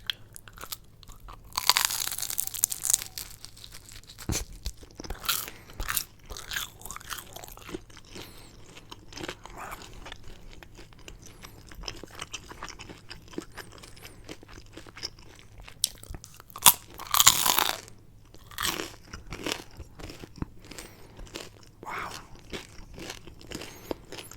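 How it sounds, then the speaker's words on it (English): Loud, close crunching as a crisp pepperoni pizza crust is bitten, followed by steady chewing with repeated crackly bites and no talking. "you heard it was really crunchy, but it's still very airy and chewy, actually, in the crust"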